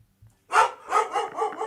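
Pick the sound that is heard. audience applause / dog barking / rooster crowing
dog barking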